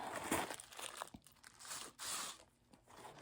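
Packaging crinkles and rustles while a Dooney & Bourke All Weather duck bag is unboxed, several close bursts of crisp crumpling with short pauses between them and no talking.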